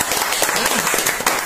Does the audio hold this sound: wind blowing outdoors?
no